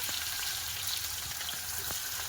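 Chopped onion hitting hot oil in a pan while a home-style chicken curry is made in a village setting, giving a loud, even, continuous sizzle and crackle with a few sharper pops.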